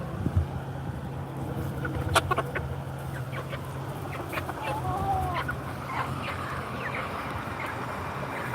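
Several chickens cluck and squawk in a yard around a tomato offered to them, irregular close calls that run on and off with faint outdoor rustling behind.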